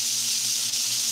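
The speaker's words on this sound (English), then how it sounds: "sizzling. Sizzle. Good shot of that." Burgers sizzle on a stovetop with a steady, close hiss that holds even and unbroken throughout.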